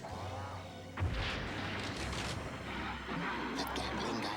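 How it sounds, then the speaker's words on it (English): Laser cannon blasts from a Dino-Riders toy commercial form a dense, continuous barrage of booming, crackling noise. The blasts start with a sharp hit and run on loud throughout. "The twin laser cannons will blast anything that moves."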